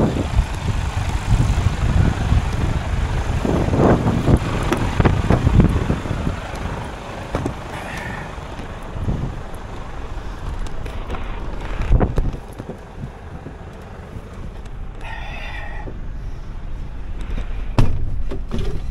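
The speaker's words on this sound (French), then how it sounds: "je sais même pas si vous m'avez entendu parce qu'il y a un vent" Gusty wind buffets the microphone in rumbling low bursts in Le Havre, with faint vehicle and clattering sounds in the background.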